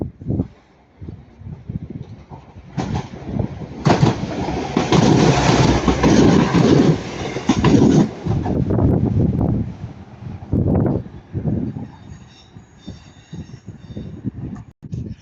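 A Northern class 195 diesel multiple unit passes at Ardwick, working from Manchester Piccadilly, rising to a loud, sustained broadband rumble for several seconds before fading, with wind buffeting on the microphone.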